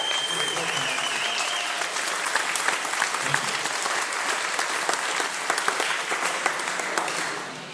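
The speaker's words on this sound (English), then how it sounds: "Let's give a big round of applause." Audience applause at a Rides4Alz charity event honoring a committee, a dense sustained wash of clapping from a large crowd, steady and full for several seconds before easing slightly at the end, with a faint voice briefly audible early on.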